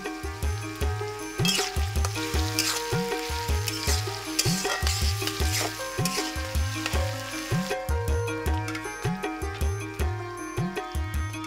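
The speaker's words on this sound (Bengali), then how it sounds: "খানিক্ষণ নেড়ে চেড়ে ভাজার পর এবার কাঁচামরিচের ফালিগুলো।" Green chili slices fry in a pan for an iftar duck meat dish, with a continuous sizzle under rhythmic scraping strokes of stirring that repeat roughly every half second. No one speaks.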